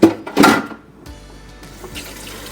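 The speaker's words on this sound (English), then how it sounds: "time to do some dishes" Tap water running while dishes are washed at a sink, starting with a couple of sharp splashy bursts, then settling into a steady, moderate trickle and spray.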